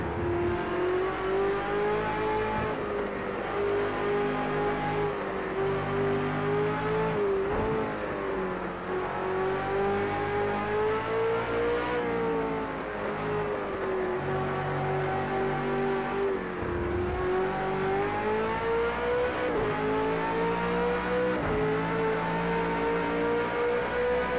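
A V8 Supercar engine in Project CARS 2, racing at Circuit of the Americas, revs hard and continuously, its pitch rising and falling through gear changes and downshifts, loud and close with no talk.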